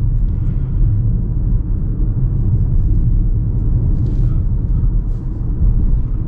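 A 2022 Volkswagen Tiguan S on the road, with a steady, loud low rumble of engine and road noise that continues evenly throughout.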